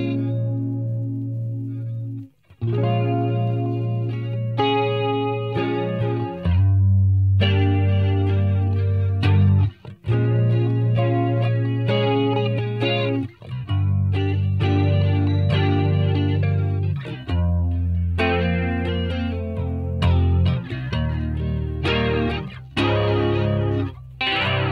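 A sustained electric guitar plays chords and notes through a TC Electronic Corona Chorus pedal, shimmering, with some distortion, steady and upfront, with no voices.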